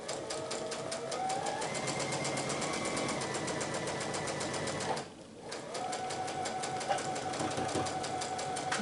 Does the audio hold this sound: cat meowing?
no